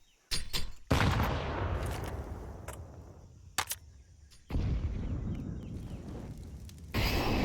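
Grenade blasts and gunfire in Counter-Strike on the Ancient map: sharp bursts and explosive rushes with decaying noisy tails, several separate hits spread across the clip at moderate loudness.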